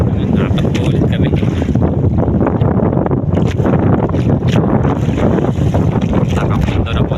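Fishing boat running at sea off the reef at night, a loud steady engine roar mixed with rushing water and heavy wind buffeting the microphone throughout.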